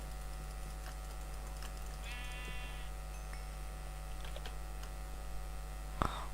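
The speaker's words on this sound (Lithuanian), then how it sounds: "Avis." A single sheep bleat in Minecraft, a brief wavering cry over steady electrical hum and faint keyboard typing, with no talking.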